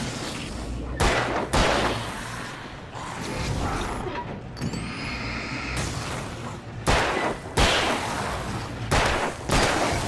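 Gunshots in the video game Alan Wake, several loud sharp bursts spread across the stretch with mechanical rattling and ambient noise between them, no talking over the shots.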